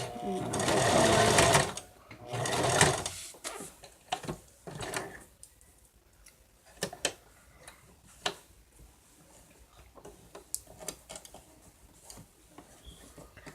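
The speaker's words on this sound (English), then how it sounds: "Let's do a little bit of a back stitch." A sewing machine runs two short, loud bursts of back stitching on a stuffed bear, then gives way to scattered ticks and light handling clicks close by.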